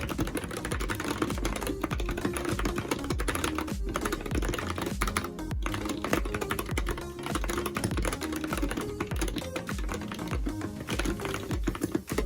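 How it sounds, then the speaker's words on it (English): Rapid fingers tapping on a computer keyboard, a dense run of clicky keystrokes with occasional short pauses, close-up and steady, with no voices. "I'm gonna jump into typing it up."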